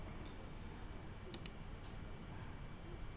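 A computer mouse clicks while drawing in Adobe software: a few faint, sharp clicks, including a quick double click near the middle, over a low steady room hiss.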